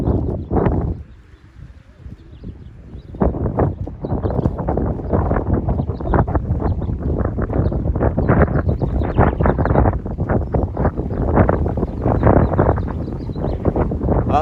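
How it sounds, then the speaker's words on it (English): Strong gusting wind of about 30 miles an hour buffets the microphone outdoors where roller pigeons fly, a loud, continuous rumbling roar with rapid flutter throughout, close and harsh. "Oh man, it's wind getting tough. It's wind about what is it? About like 30 miles an hour."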